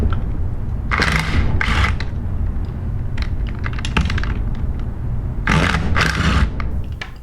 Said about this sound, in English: we're going to use a 3/8 inch impact gun for assembly and disassembly